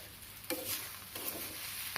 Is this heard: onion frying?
yes